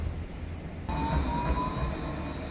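A train passes through a station with a steady low rumble of wheels and carriages and a thin high metallic whine from the rails, close and continuous throughout.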